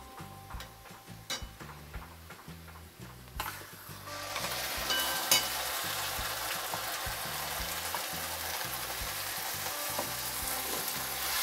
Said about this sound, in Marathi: हा सगळं चांगला हलवून घ्यायचा।